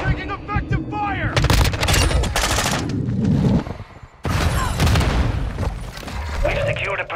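Heavy gunfire in Call of Duty Modern Warfare II, with rapid automatic bursts and booming impacts close by, a short lull, then more shooting as voices speak over the battle.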